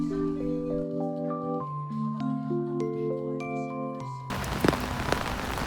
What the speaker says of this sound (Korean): 비가 추적추적 내리는 주말